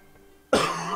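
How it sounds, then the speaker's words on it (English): A single sharp cough bursts out suddenly after a quiet moment, close and loud, from a commentator during a 2v2 tournament broadcast. "As I continue to cough out my lungs here."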